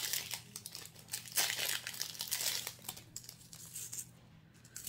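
A clothing package from an online fashion order is torn open and unwrapped, with close crinkling and crumpling of plastic wrap in quick, irregular bursts that grow quieter toward the end.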